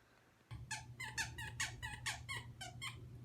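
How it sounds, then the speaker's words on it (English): A dog chewing a squeaky toy nearby, producing about ten sharp squeaks in an irregular rhythm over a low steady background hum. "Are you chewing on your toy? Is that a squeaky toy?"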